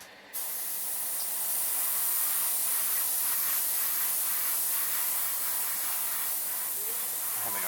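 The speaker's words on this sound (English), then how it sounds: "I'm having a hard time getting my my airbrush to go subtle with this paint for some reason." Airbrush spraying paint for pre-shading on a 1:5 scale vinyl sofubi model kit, a continuous close hiss that starts abruptly after a brief pause and holds steady with slight fluctuations.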